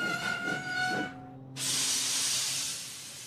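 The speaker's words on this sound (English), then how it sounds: "Thomas's brakes sound like this" Thomas the Tank Engine's steam brakes release a sudden loud, broad hiss that holds steady and then slowly fades. The hiss follows a tonal, rhythmic chuffing engine sound.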